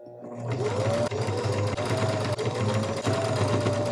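A sewing machine stitching seams through thick quilt fabric, a fast steady mechanical whirr that starts up and runs continuously with a few brief hitches, close and loud.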